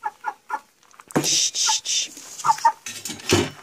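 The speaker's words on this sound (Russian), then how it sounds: "Сейчас еще один будет петух" A rooster clucks a few times, then lets out a loud crow nearby; a person briefly asks something in between.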